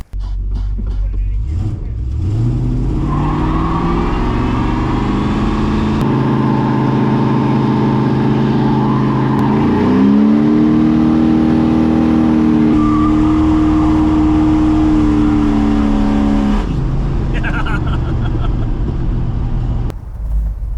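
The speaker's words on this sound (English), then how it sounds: "I insist that he does one last burnout with it just to make sure it still works" A 600-horsepower big-block V8 in a C10 squarebody truck roars through a long burnout, holding a loud sustained rev that climbs and settles in steady waves, close and dominant, with people talking faintly beneath.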